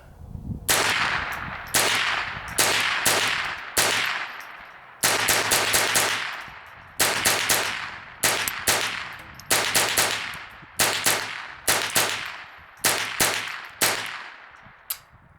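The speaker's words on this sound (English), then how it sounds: "You can definitely shoot them faster than you can reload them. Alright, here we go. Another 25." Ruger 10/22 semi-automatic .22 rifle fired from a BX25 25-round magazine outdoors: a rapid, uneven string of sharp, loud cracks, each with a short echoing decay, some shots in quick doubles and triples, with no talking.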